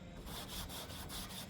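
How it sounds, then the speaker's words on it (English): Scotch-Brite pad with dish soap scrubbing the clear coat on a 1956 Chevy truck, a quiet rhythmic rubbing in quick back-and-forth strokes, close up and faint. "scrubbing on your car with Scotch-Brite and dish soap"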